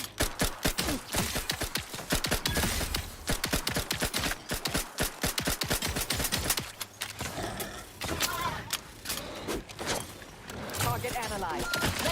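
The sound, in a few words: gunfire from machine guns in The Outer Worlds 2 video game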